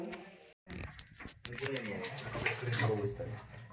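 Raw chicken being washed under running tap water, a close, continuous splashing and pattering rush that builds toward the end, with people talking over it.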